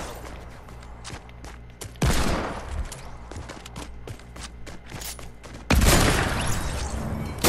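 Sniper rifle fire in the Fortnite video game, with two loud, sharp bursts well apart, each followed by a rolling tail, set against a busy background of smaller clicks and footsteps.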